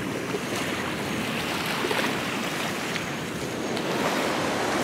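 Beach surf rolls in as a continuous broad wash of breaking waves, with some wind buffeting the microphone and no voices.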